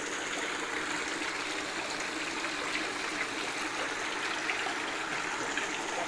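A water pump pushes water out through a length of PVC pipe drilled with multiple holes, giving a steady, close spray that hisses and splashes without a break and with no talking.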